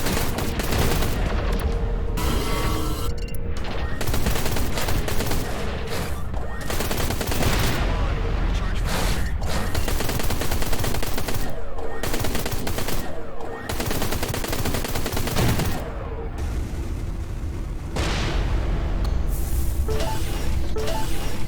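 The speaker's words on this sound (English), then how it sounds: "only trouble with these cannons though is they run out pretty quickly in terms of firing capability" Rapid, loud ship cannon fire in the space shooter Everspace 2 during a base assault, dense continuous bursts with booming impacts, running almost without pause and only briefly easing.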